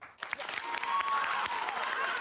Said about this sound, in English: Clap if you think that she should trick him.